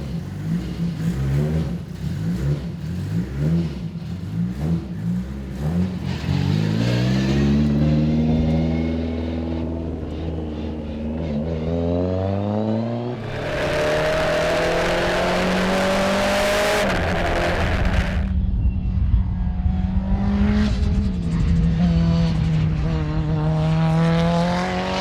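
A race car screams around a track, its engine revving up and down through gear changes, with a loud, steady roar that surges and drops as it accelerates past and away.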